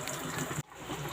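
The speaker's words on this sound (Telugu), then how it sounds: "వాటర్ కూడా మనం వేసుకున్నాం" Water pours into a pan of fish curry mixed with chilli powder and salt, a close, steady splashing that cuts off abruptly midway and then resumes as softer trickling.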